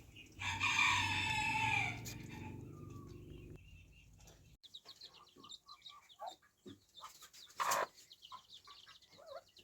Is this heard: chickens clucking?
yes